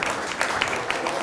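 An audience claps in a round of applause at a coin show banquet, a dense burst of hand claps filling the room at close range, fairly loud and continuous.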